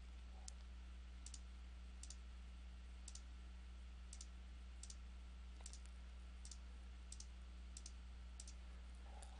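A computer mouse clicks at a steady, even pace while working in CAD software, the crisp faint taps sitting over a constant low electrical hum.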